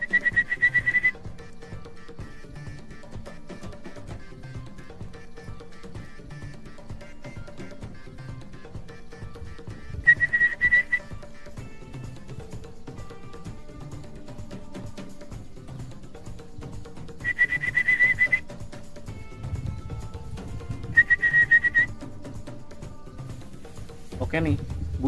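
An orphaned plaintive cuckoo (kedasih) chick begs for food with short, high whistling calls in separate bursts, heard over quiet outdoor background with a voice talking.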